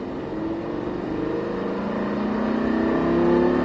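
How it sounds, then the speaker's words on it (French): A racing car accelerates hard on a race circuit, engine pitch climbing steadily as it pulls away, heard from inside the car at close range. "On réaccélère de suite, c'est reparti."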